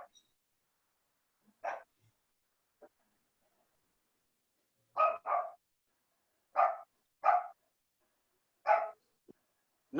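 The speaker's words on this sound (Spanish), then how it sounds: "Justo está ladrando el perro." A dog barks in a home during a Bible study session: about six short, sharp barks in separate bursts over ten seconds, fairly close and loud, with no talking over them.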